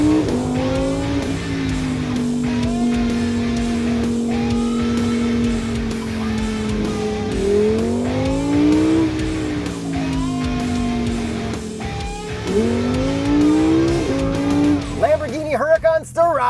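A Lamborghini Huracan Sterrato on the move, its engine droning steadily and rising in pitch through several gear changes, loud and heard from inside the car, with voices talking over it.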